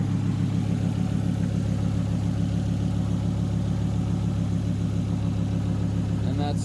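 Volvo P2 five-cylinder engine idling, a steady low rumbling drone held evenly throughout at close range, with a few faint clicks near the end.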